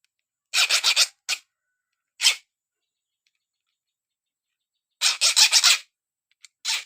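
Strokes of a hand file against the hardened steel teeth of a Yamaha Mio kick-start gear, heard as short, crisp rasping scrapes in quick clusters of three or four, separated by silent pauses, close and fairly loud.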